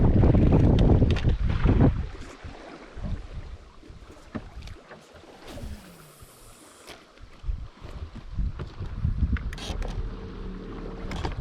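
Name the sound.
wind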